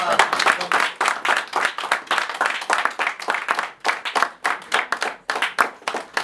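Guests at an engagement ceremony clap together in a steady, uneven patter of many hands that sounds close and lively and continues throughout.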